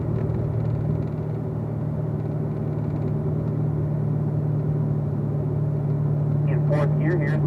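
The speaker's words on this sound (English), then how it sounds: "you're going to upshift into fourth gear as well as you head down towards the kink" A Corvette Z06 automatic drives a racetrack with a steady, loud, droning engine rumble heard from inside the car, and someone talks over the noise throughout.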